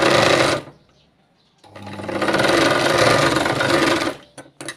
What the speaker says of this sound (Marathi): तर असं थोडंसं शिलाई मारून घ्यायचं आहे आणि उरलेला कपडा हा कट करून टाकायचा आहे